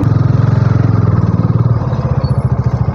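A Bajaj Dominar motorcycle rides along a road near a railway level crossing, its engine throbbing loudly and close with a fast, steady pulsing rhythm and no talk.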